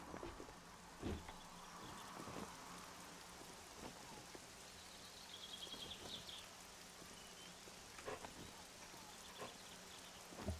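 Steady rain falling in the survival game 7 Days to Die, a constant hiss of drops with occasional heavier patters, moderately loud throughout.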